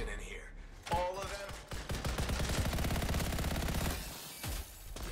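Sustained automatic gunfire from a weapon in the video game Anthem, with a loud, continuous rattle of rapid shots and a sharp burst near the start, mixed with game effects and no clear speech.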